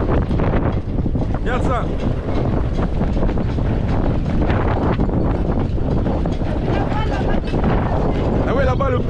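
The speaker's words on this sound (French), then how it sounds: "Il y a des rafales, c'est impressionnant." Strong wind roars and buffets continuously, loud and gusty, with a person speaking briefly over the rushing noise.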